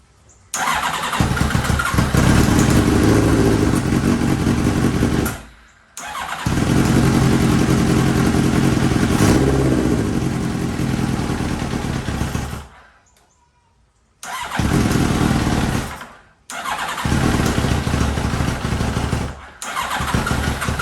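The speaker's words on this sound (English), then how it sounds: "let me get the idle right. All right, let's see what she do." A Kawasaki Ninja ZX7R motorcycle engine starts and runs loud and close in long revving bursts, cutting out for brief silent gaps before catching again and settling into a rough idle.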